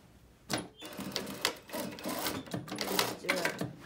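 A sewing machine stitches a zipper closed on a knife-edge bolster cushion, running in several short bursts with brief pauses between, fairly close and moderately loud, with some low background voice.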